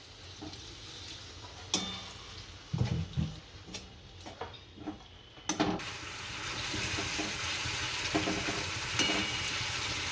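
Water is poured into a hot pan of pointed gourd curry, setting off a burst of hissing and sizzling that carries on steadily, along with some clinks and stirring.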